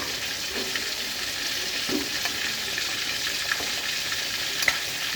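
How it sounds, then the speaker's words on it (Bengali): Chicken pieces and chickpeas frying in a pan, a steady close sizzle with occasional stirring scrapes and small pops running throughout, no talk. "এগুলা লাল লাল করে জাস্ট একটু ভেজে নেব"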